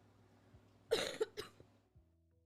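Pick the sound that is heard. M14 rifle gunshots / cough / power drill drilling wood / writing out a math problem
cough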